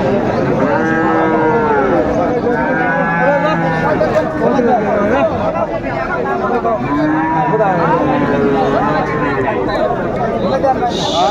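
Friesian and crossbred bull calves moo repeatedly at close range at a cattle market in Dinajpur, long drawn-out lowing calls overlapping amid a busy crowd of chattering voices.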